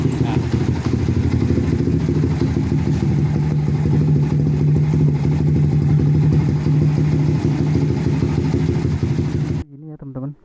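A modified Yamaha Vixion motorcycle idles while warming up, a steady, close, low rumbling putter that holds evenly for about ten seconds before cutting off abruptly near the end.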